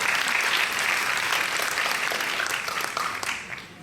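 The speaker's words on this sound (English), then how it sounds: "Another round of applause." Audience applause at a silver jubilee celebration ceremony, a dense, sustained burst of many hands clapping together that stays loud throughout and tapers slightly toward the end.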